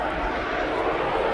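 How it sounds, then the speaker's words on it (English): A Beechcraft King Air B200 turboprop taxiing toward the runway at East Midlands Airport gives off a steady, loud broadband engine roar that holds evenly throughout without pause. "That is a Beach King Air"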